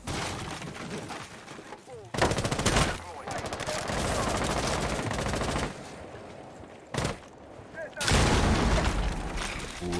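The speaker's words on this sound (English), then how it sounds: "Lots of explosions, nitro cells going off, not connecting with anyone." Explosions and nitro cells go off during a Rainbow Six Siege-style competitive video game match, loud bursts of blasts and rapid gunfire in heavy chunks separated by brief quieter gaps, with a commentator's voice mixed in.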